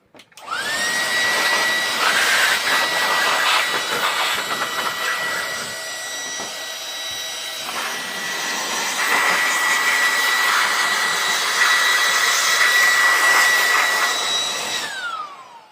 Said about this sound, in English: There's my first use for the blower right there. I blowed the shavings out of that.